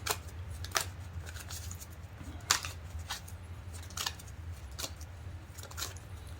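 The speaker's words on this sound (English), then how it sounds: "shuffling the cards." Tarot cards are riffled and shuffled by hand in quick, crisp bursts at irregular intervals, close up over a low steady hum, with no talking.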